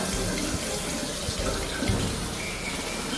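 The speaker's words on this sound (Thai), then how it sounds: "เด็กเขากำลังรีวิวการใช้อ่างล้างมือพ่อลูกนะคะ" Tap water runs steadily into a hand-washing basin at a rural guesthouse, a continuous close hiss and splash with no talking over it.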